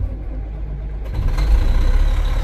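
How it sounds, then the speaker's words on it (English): A CAT 966H wheel loader's diesel engine turns over and catches about a second in, rising from a quiet low hum into a loud, steady rumbling idle, up close with no talk. "the shutdown error, it's already gone, and the engine can possibly start it now."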